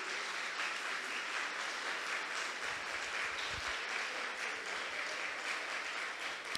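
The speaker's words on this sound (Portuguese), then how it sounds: "Você pode aplaudir o Rei da Glória" A church congregation claps together in steady, sustained applause that fills the room evenly from start to finish, dense and continuous with no voices standing out.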